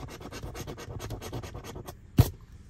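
A Texas Lottery scratch-off ticket being scratched, a quick run of close, rhythmic rasping strokes followed by a single sharper scrape.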